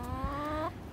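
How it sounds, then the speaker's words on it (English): A chicken gives one short, clear, drawn-out cluck close by, heard alone on a winter farm. "Beautiful chickens. Beautiful chickens."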